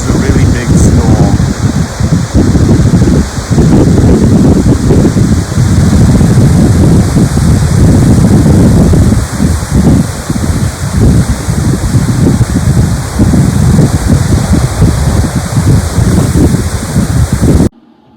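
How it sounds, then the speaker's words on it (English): A big storm roars with steady, loud wind buffeting the microphone and a dense wash of rain, continuous and close throughout without a break. "This was a really big storm."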